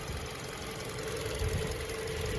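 A 2022 Hyundai Tucson SEL's 2.5 liter four-cylinder engine idles steadily under the open hood, a constant close-up hum with no voices over it.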